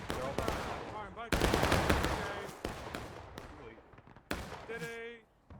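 Musket volleys from a large multiplayer battle in War of Rights on the Piper Farm map: repeated broadband gunshot cracks, several close and loud with others scattered farther off, mixed with shouted talk between the volleys.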